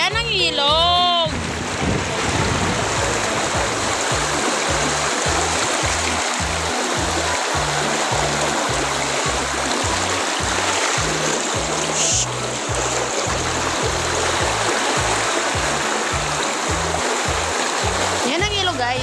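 Rushing water from a flowing river fills the scene, steady and loud, with a rhythmic low thumping underneath.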